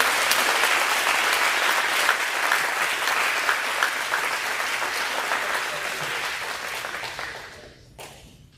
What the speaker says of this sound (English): Good round of applause to the 2024 Club.